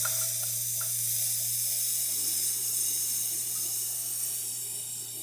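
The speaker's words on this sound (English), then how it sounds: "Let's put the steamer." The steam wand of a La Pavoni espresso machine gives a steady, close broadband hiss with a low hum underneath, starting with a few faint clicks and fading slightly toward the end.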